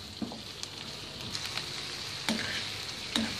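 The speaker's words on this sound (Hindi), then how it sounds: "और इनको हम लाइट गोल्डन फ्राई करेंगे" Okra fries to a light golden colour in a pan, making a soft, continuous sizzle with small crackling pops at irregular intervals, and no voices.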